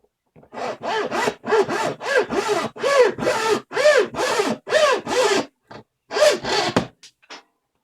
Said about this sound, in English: you can go ahead and just saw right through it